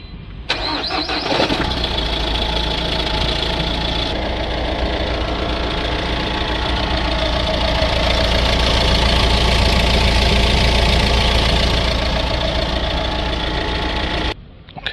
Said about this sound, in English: Gonna do it with the engine running.